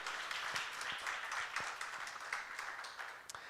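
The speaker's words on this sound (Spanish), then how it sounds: "Dale un aplauso al Señor." A church congregation claps for the Lord during a sermon, a steady, fairly faint patter of hands with a few sharper individual claps standing out.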